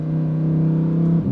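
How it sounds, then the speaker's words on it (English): A deep, heavy, bassy exhaust drone from a Lamborghini Huracan EVO building as it accelerates in second gear, with a brief dip at the end like a shift. "The exhaust doesn't really crackle that much, but it gets so heavy and bassy."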